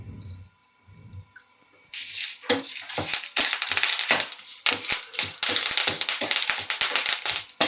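Coriander seeds, cumin and curry leaves hit a pan on low flame for a capsicum chutney. After a few quiet clicks, a dense crackling sizzle breaks out, full of sharp pops and spits, close and steady.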